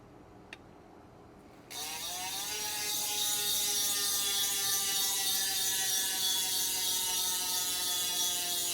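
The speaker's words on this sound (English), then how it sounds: "this is the loudest wheel I've ever heard in my life" Rapid, loud buzzing ratchet of a Polygon Helios A9 carbon race bike's freehub spinning, starting abruptly after a quiet moment and continuing as a dense, steady whirring click.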